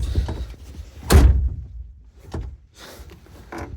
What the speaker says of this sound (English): Door, close.